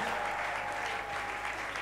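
A church congregation applauds in a steady wash of clapping hands that stays even and dense throughout, with no voices standing out.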